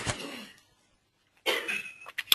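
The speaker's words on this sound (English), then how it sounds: "Coughing." A person coughs in a quiet room during a meditation class, a short burst at the start, a pause of near silence, then a second rougher burst with a few faint clicks afterward.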